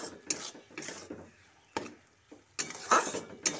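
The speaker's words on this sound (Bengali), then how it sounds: "মশলাটা ভালো করে কষিয়ে নিচ্ছি।" A masala of chopped tomato, salt and spices is stir-fried for a doi potol chingri curry, heard as irregular bursts of spatula scraping and rattling against the pan, with quiet gaps between strokes.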